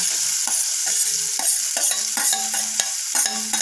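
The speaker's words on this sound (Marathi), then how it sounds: "लालसर होईपर्यंत आपण व्यवस्थित फ्राय करून घेऊयात" Chopped onions with ginger-garlic paste and green chillies fry in a pan for vada pav, a steady close sizzle broken by repeated scraping stirs of the spatula at an irregular rhythm, with no voices.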